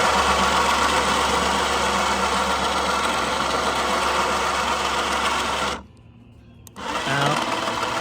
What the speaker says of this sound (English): Just a test of the winch here.